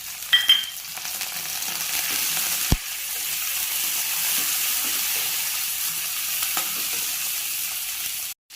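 Chopped green chilies frying in hot oil in a pan for a fish curry, a steady close hiss and sizzle with a single sharp clink partway through, no talking.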